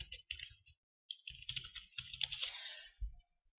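Close, quiet keystrokes tap on a computer keyboard in short bursts of clicks separated by brief pauses, with no talking.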